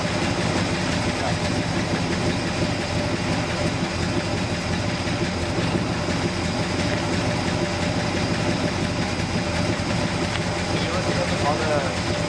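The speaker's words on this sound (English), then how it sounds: "Idle sounds a little bit low." A 1969 GMC engine with a Holley carburetor idles at a low, steady rumble, a continuous mechanical drone running the full length while people talk over it.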